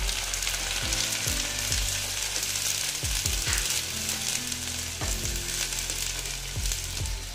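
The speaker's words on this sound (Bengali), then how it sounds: "এবার না আমি ওই যে পেঁয়াজ, রসুন, আদা যে আমি পেস্ট করেছিলাম, এটা আমি দিয়ে দিচ্ছি" Onion, garlic and ginger paste frying in a pan, giving a dense continuous sizzle close by with repeated low knocks and taps of a utensil stirring.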